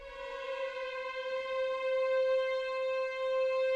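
Strezov Sampling Afflatus Arrival Violins, a sampled string ensemble sliding up into a sustained note that holds steadily, soft and smooth with no voices.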